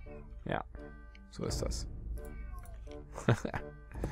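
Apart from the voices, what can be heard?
cat meowing and complaining for food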